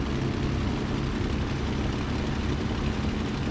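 Bf 109 G-6 piston engine idling and taxiing in Microsoft Flight Simulator 2020 at Duxford, a steady loud propeller drone with low throbbing pulses, continuous throughout with no voices.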